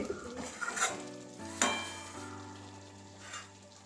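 Katla fish kalia with yoghurt simmers in a pan, a soft sizzle broken by a couple of clear clinks and scrapes of a utensil against the pan, with a faint hum behind and no talk.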